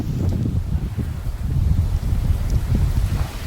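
Strong wind roars into the microphone with a continuous low buffeting rumble and gusty fluctuations throughout.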